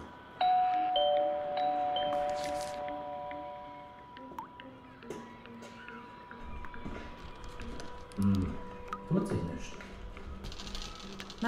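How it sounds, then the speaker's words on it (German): Doorbell in a German mystery radio drama sounding a clear two-tone ding-dong that rings out and fades, followed by quieter taps and movement with people talking. "Läuten Sie noch mal, Brecht."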